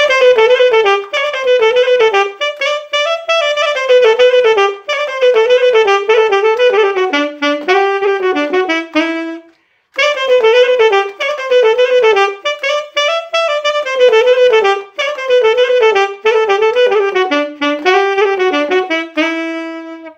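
Solo saxophone plays a variation of the Romanian folk tune "Vinde tata oile", a lively ornamented melody in quick runs, close and loud, pausing briefly midway before repeating the phrase.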